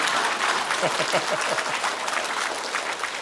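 A lecture audience at a Daegu citizens' college claps steadily and densely for several seconds, with a few voices mixed into the applause.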